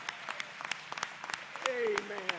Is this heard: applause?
yes